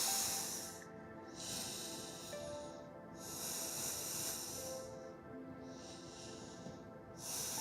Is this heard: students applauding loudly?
no